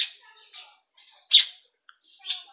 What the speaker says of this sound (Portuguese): Sabiá poca, conhecido como sabiá bico de osso.